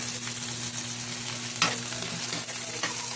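Onions frying in a pan for a simple home-cooked dish, a steady close sizzle with scraping stirs and a spatula clink.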